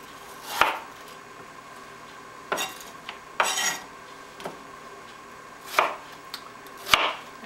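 A knife cuts through cooked Angus steak on a board, a handful of separate crisp chops and clicks with quiet pauses between them, close and clear, with no talking.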